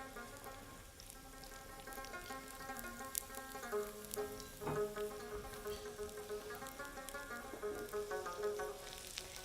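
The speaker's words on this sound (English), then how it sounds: "once you're sauteing the garlic, you keep on moving it." Garlic sautéing in a pan, a steady soft sizzle and crackle running throughout at moderate level, with occasional utensil clinks and scrapes as it is stirred, no talking.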